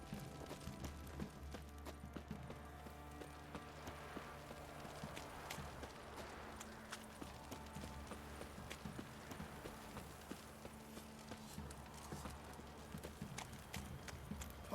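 Horse hooves clip-clopping at a steady trot in The Witcher 3 video game, a continuous rhythmic beat held over a low droning game soundtrack for the whole stretch, with no talking.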